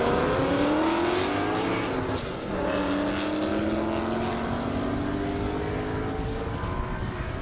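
Loud race cars roar past at a half-mile airstrip speed event, several engine notes sweeping and overlapping continuously, with no talk.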